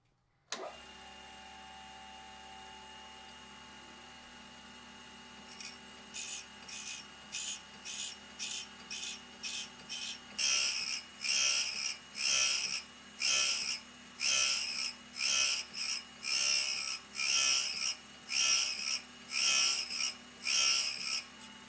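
A grinding wheel grinds a wire threading tool held in a V-block, a low motor hum under rhythmic bursts of bright grinding as the work moves back and forth, the passes growing louder and more regular.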